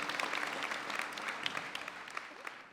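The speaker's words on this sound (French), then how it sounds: "on peut l'applaudir" Audience applause at a secondary-school gala honoring a student, steady dense clapping from a crowd throughout, moderately loud and close.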